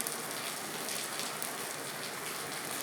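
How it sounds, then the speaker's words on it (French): Steady rain falls and patters on surfaces, a soft continuous hiss with no voices. "je pense que là on entend le bruit de la pluie"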